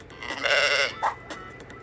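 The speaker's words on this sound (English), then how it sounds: "It's a sheep." A sheep bleats once, a loud wavering cry up close, followed by a short softer bleat, over a low steady background hum.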